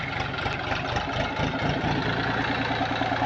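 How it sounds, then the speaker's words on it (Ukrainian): A tractor engine idles in a steady, low rumbling drone during potato harvesting with a plough, running continuously at an even pace throughout. "Береться трактор."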